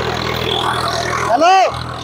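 A tractor engine at 1600 rpm pulls a Tota plough in a plough competition demo with five people riding on the back, giving a steady close drone, briefly topped by a short rising and falling voice-like call.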